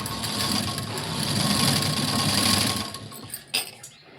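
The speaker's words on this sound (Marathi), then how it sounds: "तर इथे मी असं फोल्ड करते आणि एक शिलाई देऊन घेते" Sewing machine running steadily as it stitches folded fabric for cord piping, a continuous close whirring that stops near the end, followed by a brief clack.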